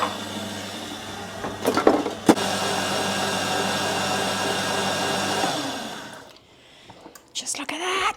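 An electric mixer whisks meringue with sugar as a loud, steady motor whir that runs for several seconds, broken by a couple of knocks, then cuts off and leaves faint handling sounds.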